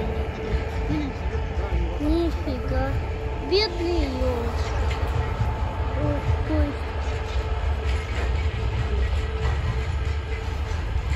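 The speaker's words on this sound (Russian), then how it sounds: "Это поезд." Steady rumble and rolling noise of a passing train heard outdoors in a snowy wooded area, continuous and moderately loud, with people talking over it.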